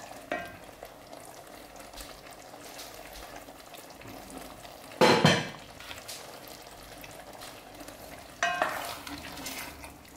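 Browned chicken pieces with softened mushrooms frying in a pan, a low, even sizzle with two louder bursts of spattering as the contents are stirred, heard close with no voices.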